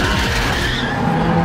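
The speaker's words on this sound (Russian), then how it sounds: "Это дрифт получается." A car drifting with skidding, squealing tires, a loud close rasping screech held over a deep engine roar for a brief burst.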